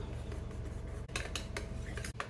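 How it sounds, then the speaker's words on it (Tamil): Milk and condensed milk stirred together in a bowl, a spoon clinking and scraping in a few quick bright strokes over a steady low hum, close and fairly loud with no talking. "இதை நல்லா மிக்ஸ் பண்ணிக்கலாம்"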